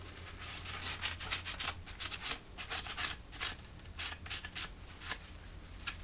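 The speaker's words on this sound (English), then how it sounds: "Just wiping off the excess here so that there aren't any" A cloth rubs excess stain off a wooden AK rifle stock made of US wood, with quiet, close, rhythmic swishing strokes in repeated bursts.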